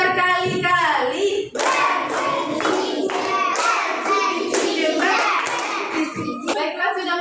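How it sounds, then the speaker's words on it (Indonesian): Classroom children clap their hands many times in a sustained, loud, ragged burst of overlapping claps, with a teacher's voice speaking briefly before and after. "Tepuk berkali-kali."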